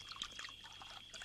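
Liquor poured into a glass, a faint, quick trickling splash of liquid lasting about a second with no talk over it.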